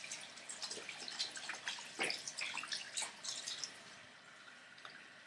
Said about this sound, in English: Rinse the soap off.